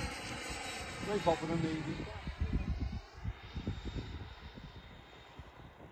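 An HSD F-86 Sabre model jet flies overhead at a flying field, its whining jet roar rising and fading as it turns while people chat nearby.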